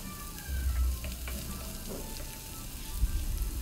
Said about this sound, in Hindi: हल्का सा सॉटे कर लेंगे, ज़्यादा नहीं क्योंकि प्याज का क्रंची फ्लेवर अच्छा लगता है